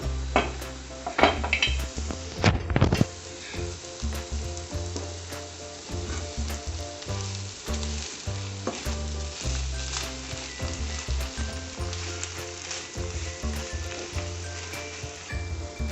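Beetroot and large beans for a Kerala-style thoran sizzle steadily in a hot pan, with repeated scraping and clinking as a utensil stirs against the metal throughout, close and alone with no voices.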